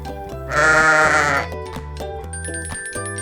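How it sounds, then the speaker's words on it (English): A single loud, close sheep bleat, a bright wavering cry lasting about a second, set against a light musical backing of steady tones and plucked notes, with no talk. "A sheep. A sheep says,"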